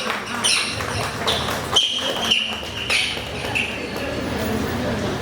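A performer's voice mimics a squirrel's call in short, sharp, high chirps and squeaks, repeated in uneven bursts close to the microphone, with faint background murmur.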